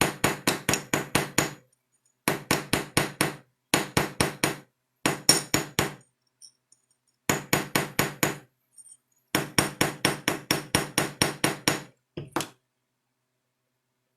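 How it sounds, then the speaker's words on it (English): Rapid rows of sharp metal taps from a hammer striking a straight line embossing stamp around the edge of a pendant, in quick bursts of about eight to ten blows separated by short pauses, close and clear. "You can take a straight line embossing stamp and go around that too and make little lines all the way around"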